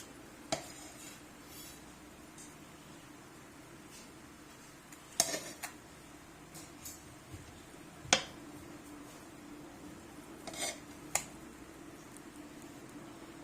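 Chicken pulao rice being served out of a cooking pot, with scattered quiet scrapes and clinks of a serving spoon against metal over a low background hum, no talking.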